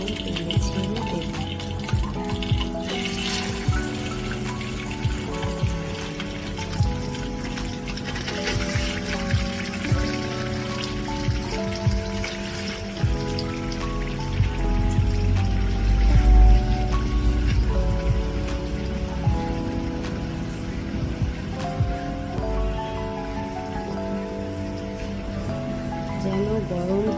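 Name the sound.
spiced pangas fish frying in hot oil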